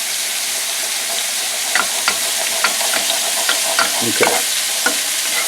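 Apricot glaze sizzling steadily in a hot pan, a close, dense frying hiss with occasional sharper pops and stir clicks, a single brief word spoken.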